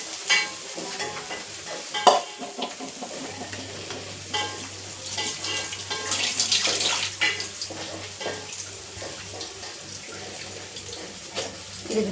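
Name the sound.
fish frying in oil in a pan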